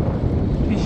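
Strong wind on a snowy Carpathian mountain slope roars and buffets the microphone with a dense, low rumble, driving small bits of ice.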